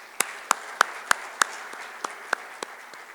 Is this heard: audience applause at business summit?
yes